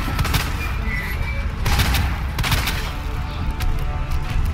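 Gunfire in the Resident Evil 2 video game rings out as repeated sharp shots in clustered bursts, loud and close, over a low rumbling game backdrop.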